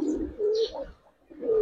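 A Rajshahi Giribaz pigeon coos close by in two soft, throaty phrases separated by a short pause, with a faint chirp at the start and no voices.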